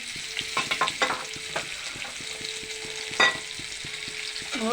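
Onions frying in hot oil in a pan while cooking goat cauliflower bhuna, a continuous close sizzle with repeated scraping and stirring strokes of a spatula, no talking.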